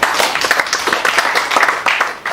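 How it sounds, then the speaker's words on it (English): Audience at an African Traditional Medicine Day celebration claps steadily, a loud, continuous patter of many hands throughout. "I think you should clap for that."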